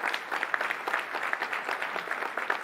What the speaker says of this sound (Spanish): les damos un gran aplauso a nuestros debatientes en este momento